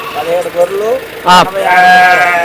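Sheep and lambs at a farm in Nellore district bleat close by, several wavering calls overlapping one after another, with a louder sharp cry in the middle.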